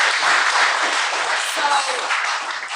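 An audience breaks into dense, even applause, a steady wash of many hands clapping at close range for the full stretch without any voices over it.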